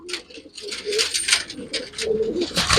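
Pigeons coo in soft repeated rolling phrases, close and fairly loud, with chirpy noise over them.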